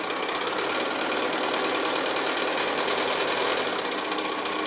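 A sewing machine runs steadily, stitching a straight seam on quilting strips for a flower and leaf project, its fast, even whirring continuous and close throughout with no pauses or talk.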